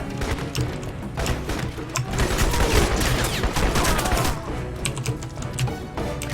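Dense, rapid gunfire rattles continuously during a firefight in the shooter game Crysis, including shotgun blasts, loud and sustained with no talking.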